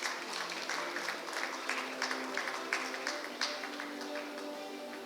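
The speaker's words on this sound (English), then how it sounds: "One more round of applause to Kanmani, please." An audience at a school association's silver jubilee celebration keeps up steady, moderately loud applause, a dense patter of many hands clapping with small swells and no pauses.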